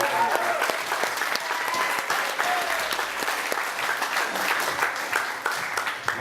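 Sustained applause from a music festival audience, dense steady clapping at close range filling the whole stretch with no pauses, with faint crowd murmur mixed in.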